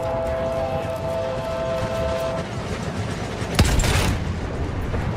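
Train rumbling along in the Battlefield 1 game, a steady low roar with a long horn-like tone that drops out midway, followed by a sharp loud burst near the end.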